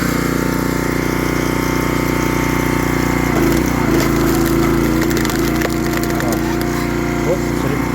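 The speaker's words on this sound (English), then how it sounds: "I'm afraid my old 30-ton splitter is getting a bit weary." An old 30-ton hydraulic log splitter drones loudly and continuously through hard timber, engine and pump straining steadily while wood cracks and splinters crackle over the top, with no talking.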